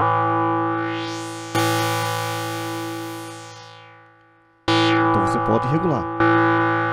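Korg Monologue synthesizer playing sustained, buzzy harmonic tones that drop out and return with sharp starts after the attack is shortened, with a short spoken phrase near the end.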